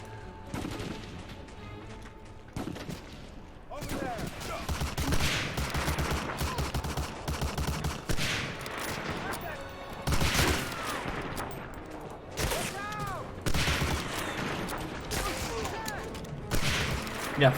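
Enemy soldiers fire on the player in the WWII shooter game Medal of Honor: Allied Assault, with repeated bursts of rifle and machine-gun fire in loud clusters and short gaps between volleys.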